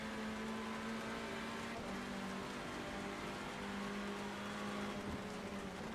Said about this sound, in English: we will try and get on board here with Mould. Let's listen in